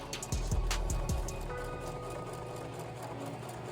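Sewing machine stitching around a black decal design, giving a steady mechanical whir after a few sharp thumps at the start.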